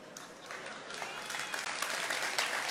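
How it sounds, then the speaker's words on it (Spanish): Audience applause breaking out at a church sermon, a broad steady clatter of many hands that builds gradually and holds for a few seconds at moderate distance. "Empezó por allá el aplauso."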